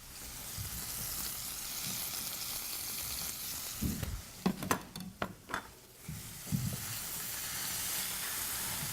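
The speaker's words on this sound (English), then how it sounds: "Now the purpose of searing it like this is when you sear the outside, it helps to lock in all the juices." Beef for a Beef Wellington sears in a hot pan with a loud, continuous sizzle up close, broken midway by several sharp clanks of a utensil against the pan before the steady hiss resumes.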